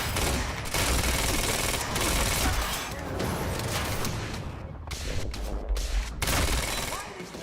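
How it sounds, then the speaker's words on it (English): Enemy gunfire in the video game Quantum Break, a dense, sustained barrage of rapid shots with brief lulls, heavy and close throughout, with voices talking over parts of it. "Why are they still shooting?"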